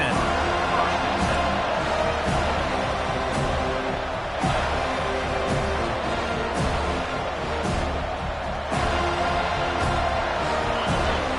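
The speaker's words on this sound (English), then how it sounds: "The roar of the crowd trying to fuel this defense to keep them pinned in their own end" A stadium crowd at a UNC football game roars continuously and loudly throughout, a dense, steady wall of cheering and noise with a commentator's voice mixed in.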